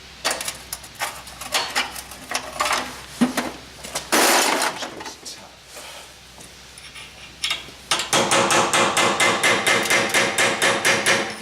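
A hammer strikes a chisel on a Land Rover gearbox with loud, sharp metallic blows, first scattered and uneven, then a fast, steady run of repeated hits near the end.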